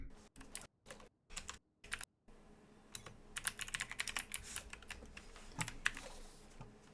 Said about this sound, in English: these guys are more typing than they are actually playing the game